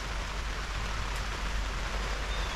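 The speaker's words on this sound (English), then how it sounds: "The rain's coming down even harder now." Heavy rain pours down on a truck camp during a hunting trip, a dense, steady hiss of drops close by, with no talk over it.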